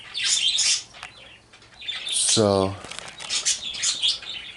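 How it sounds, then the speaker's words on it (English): Pet birds trade quick chirps and squawks close by, with bursts of bright twittering on either side of a brief spoken word. "my birds are communicating with one another."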